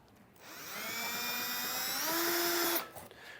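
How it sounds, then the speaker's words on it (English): A power drill fitted with a large 11/16 inch bit bores into a steel side bracket of an adjustable RV trailer hitch receiver, a steady high whine that spins up, holds for a couple of seconds, rises in pitch, then cuts off. "I've got the big 11/16 inch drill bit. I'm going to start this first in here."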